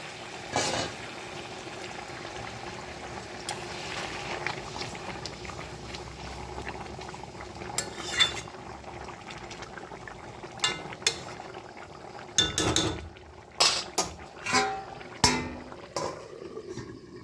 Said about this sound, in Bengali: এবার আমি যে গরম জলটা করেছি ওটা দিয়ে দিই, পুরোটাই দিয়ে দিই